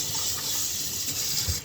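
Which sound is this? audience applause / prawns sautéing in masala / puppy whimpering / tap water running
tap water running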